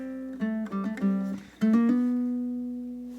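A ukulele plays a short blues solo phrase of a few plucked notes in quick syncopated rhythm, then a final note rings out and slowly fades, close and clear.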